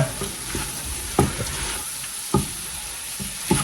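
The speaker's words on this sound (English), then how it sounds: "Stir that around." Seasoned ground meat for chili sizzles in a pot under a steady fry hiss while a spoon stirs through it, with a few distinct knocks against the pot at regular intervals.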